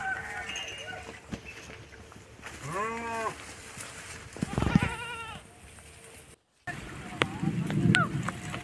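Sheep on a rocky hill in light rain bleat in a few wavering, moderately close calls spread across several seconds, amid scattered rustling and knocks and a brief dropout.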